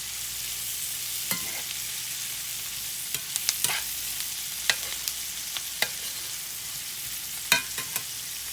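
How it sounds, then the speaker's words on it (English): Sausage frying in a pan in a home Southern kitchen: a steady, close hiss of sizzling fat, broken by scattered sharp pops and clicks of the utensil, with no talking. "I'm adding my sausage in."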